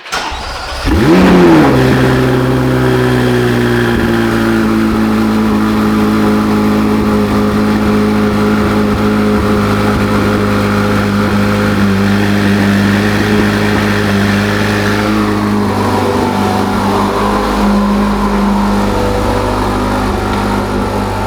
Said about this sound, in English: So let's get a cold start and head out.